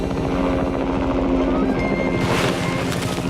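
A helicopter's rotor thumps steadily and loudly overhead, a continuous whirring drone with rhythmic chopping that swells louder toward the end.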